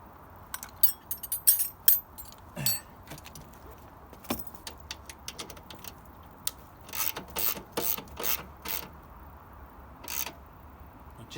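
Bolts being tightened while a toolbox is fitted to a Harley Davidson Heritage Softail, heard as close, quiet ratcheting clicks and metallic rattles in short irregular bursts with pauses between them.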